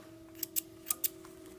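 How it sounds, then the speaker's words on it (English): Sharp scissors snip sewing thread after a back stitch on an apron pocket hem, four quick, close crisp cuts in two pairs, heard alone in a quiet room. "Back stitch again. You're gonna snip it."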